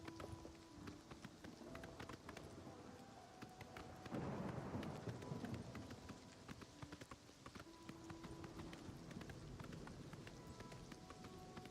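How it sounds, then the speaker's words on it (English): Horse hooves clip-clop in the video game Oblivion, a steady run of sharp hoof knocks at moderate distance, swelling briefly louder midway, over a constant ambient game background with no talking. "Oh, here's my horse."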